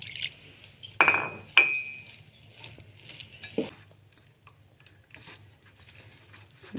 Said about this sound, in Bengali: বেসন মাখা হয়েছে রেস্টে রেখে দিব